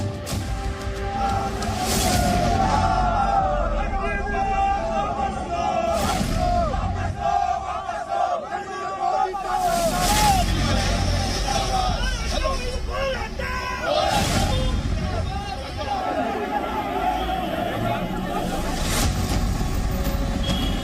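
A large crowd of protesters at a Bharat Bandh against the Agneepath scheme shouts slogans in loud, rising waves, with vehicles and traffic noise rumbling in the background throughout.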